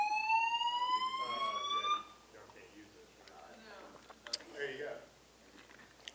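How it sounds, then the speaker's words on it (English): A building fire alarm blares during a press conference, sounding a loud, steady electronic tone for about two seconds before cutting off, after which faint voices and room noise continue. "An alarm has been activated in the building."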